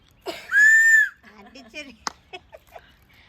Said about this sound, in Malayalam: വിസിൽ അടിച്ചടാ, നോക്കട്ടെ.